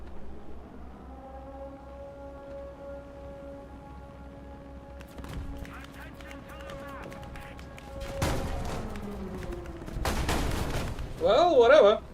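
Gunfire and artillery in War Thunder: a low engine drone with sharp cracks and bursts of shooting, growing heavier toward the end with a loud cluster of blasts and a final burst of distorted noise.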